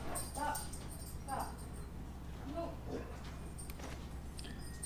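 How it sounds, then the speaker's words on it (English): A pet dog barks and whimpers in the background at home, a few short yips under ongoing conversation. "Sorry, it's my dog barking."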